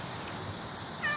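A cat gives a short meow near the end of a brief, otherwise quiet moment with steady background hiss.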